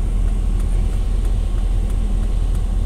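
A 2001 Dodge Ram 2500 with a 5.9 V8 idles at about 500 RPM, a steady low rumble that holds loud and even throughout with no voices.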